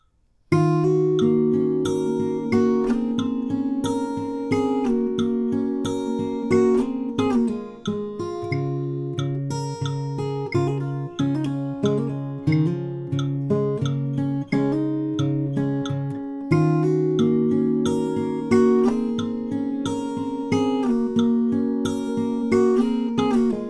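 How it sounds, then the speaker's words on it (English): Fingerpicked acoustic guitar plays the bridge of a song at a slow tempo, steady plucked notes over a repeating bass line with a soft metronome click, continuous and close for about twenty-four seconds with no talking. "So the bridge, along with the metronome at a slower speed, sounds like this."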